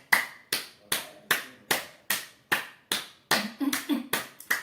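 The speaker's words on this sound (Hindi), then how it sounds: "सिर्फ ताली बजाइए" Hands clap firmly for acupressure, about a dozen sharp close claps in a steady rhythm, quickening slightly near the end, with no talk.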